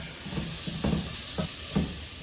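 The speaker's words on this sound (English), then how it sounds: "We're gonna make a roux." Flour stirred into hot fat for a mac and cheese roux, a steady close sizzle with a few soft scraping strokes of the spoon.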